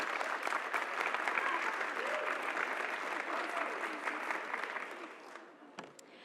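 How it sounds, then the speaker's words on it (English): Steady applause from a panel audience fills the room for several seconds, a dense even patter of many hands that fades toward the end. "A round of applause."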